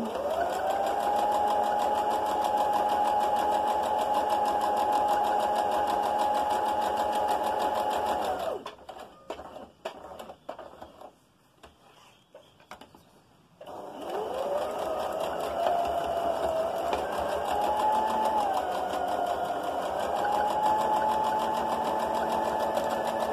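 A sewing machine stitches a fabric face covering in a steady, loud whirring run, stops for a few seconds of soft handling noises while the fabric is turned, then starts again with a brief speed change as it backstitches.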